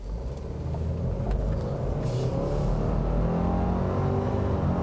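A 2017 Subaru Forester XT Touring turbo SUV accelerates hard, its engine building a steady, rising rumble heard from inside the cabin, with no talk over it.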